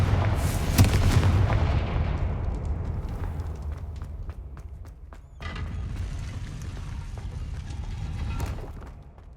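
A Confringo explosive spell in Hogwarts Legacy detonates with a loud booming blast, followed by a rolling rumble with scattered crackles and a second swell of blast noise before it fades.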